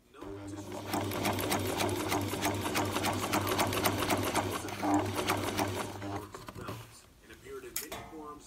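Sewing machine stitching a canvas cosplay bodice lining, a steady fast whirring clatter for about six seconds before stopping, with speech over it.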